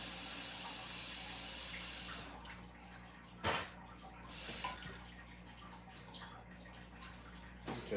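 Water is poured into a pot for boiling on an alcohol penny stove: a steady rushing pour for about two seconds, then quiet with a few faint splashes and clinks, all soft and close.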